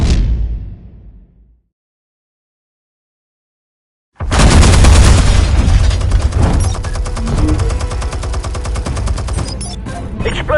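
Gunfire in Batman: The Telltale Series: a brief fading report, a few seconds of silence, then a loud, dense barrage of shots that keeps roaring to the end.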